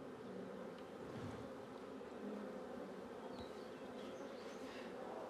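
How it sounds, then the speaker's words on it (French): A dense swarm of bees at a church buzzes continuously, a soft steady drone with no talking, heard at a moderate distance. "il y a 3 essaims."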